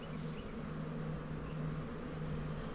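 Honey bees buzzing at an open hive during an inspection, a steady low droning hum close by and continuous, with no voices over it.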